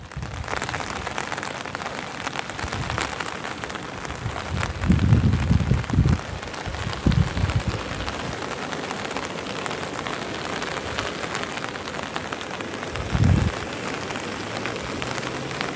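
Steady rain falls on farm fields in Jat taluka, a dense continuous hiss with a few low thuds, heard alone without voices.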